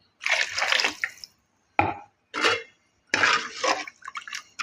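Water from a mixer jar poured into rasam made with dal, tomato and tamarind, in several short bursts of splashing and trickling with brief silent gaps between pours.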